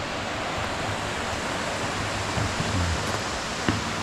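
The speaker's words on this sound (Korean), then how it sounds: "여기서도 한참 폭포가 한 단, 두 단, 여기까지 또 내려오고" Ssangyong waterfall on Seoraksan cascades down in tiers, a loud, steady roar of rushing water filling the scene without pause, heard up close and alone.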